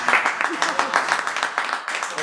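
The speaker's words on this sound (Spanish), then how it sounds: "¿Pueden aplaudir?" An audience claps, a quick run of close, uneven hand claps lasting a couple of seconds, with a voice talking over it.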